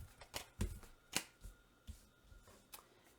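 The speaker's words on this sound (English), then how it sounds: "let's just pull some of these cards back" Tarot cards are pulled back and handled, producing a series of quiet, sharp card snaps and slides, spaced irregularly and close by, with no voices.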